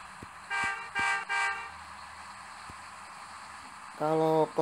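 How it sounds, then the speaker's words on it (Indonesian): A Hino bus horn in Bus Simulator Indonesia honks three short blasts, then one longer toot near the end, over quiet engine hum. "khasnya klakson Hino ya."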